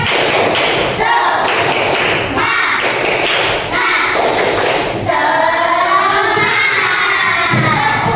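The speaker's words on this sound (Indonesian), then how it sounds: "Kita tepuk semangat dulu." A class of schoolchildren does a rhythmic spirit clap, with loud patterned claps and thumps mixed with shouted chanting voices, all close and filling the room.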